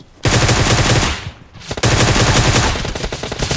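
Rapid automatic gunfire in PUBG on the Sanhok map: loud, dense bursts of shots, a brief lull, then another sustained volley that thins into scattered shots near the end.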